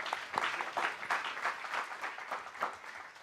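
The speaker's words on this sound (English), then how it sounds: "won't you just give her a round of applause as she comes up there" An audience at a public safety community forum applauds, a steady patter of many hands clapping in a room, moderately loud and continuous with small swells throughout.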